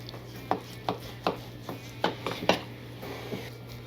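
Knife trimming raw brisket on a cutting board, a series of about eight soft, evenly spaced slicing taps close by, fairly quiet over a steady low hum.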